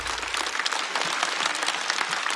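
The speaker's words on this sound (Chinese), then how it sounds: "再次掌声送给 Kid" An audience at a Chinese stand-up comedy show applauds the comedian Kid, a dense, steady burst of clapping that fills the whole moment without any voices.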